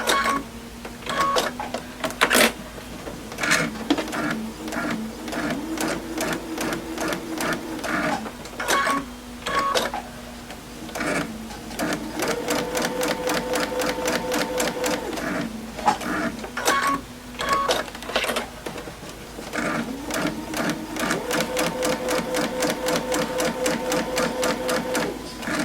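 Sewing machine stitching a fabric face mask with a filter pocket along a curve, the presser foot lifted now and then to adjust the fabric; bursts of fast, steady mechanical stitching, close and fairly loud, separated by brief pauses, with no talking.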